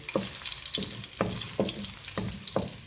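Garlic fries golden brown in a pan, a steady close sizzle broken by regular scraping stirs about every half second, with no talking.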